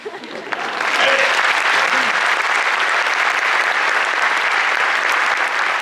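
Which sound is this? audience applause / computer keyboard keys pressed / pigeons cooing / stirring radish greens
audience applause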